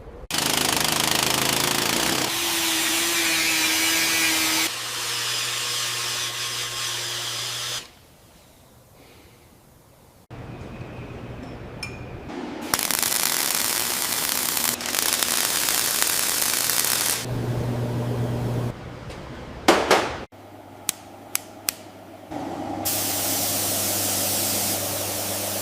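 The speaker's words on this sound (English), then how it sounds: "Professional dry ice blasting removes dirt and old undercoating." Dry ice blasting on a car underbody, stripping dirt, grease and old undercoating: loud, harsh hissing blasts in several long bursts separated by short quiet pauses and a few sharp clicks.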